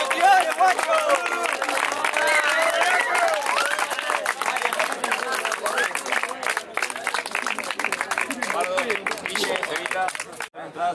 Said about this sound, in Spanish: Un aplauso para los tres competidores, guacho